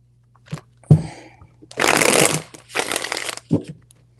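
Tarot cards are shuffled in two riffling bursts, each about half a second to a second long and close by, framed by a few sharp taps and handling clicks in an otherwise quiet room.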